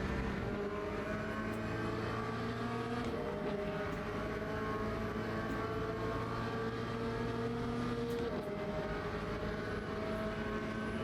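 Race cars in the video game Le Mans Ultimate, including a Mercedes and a Corvette, engines droning steadily with shifting pitch as gears change, loud and continuous with no talk.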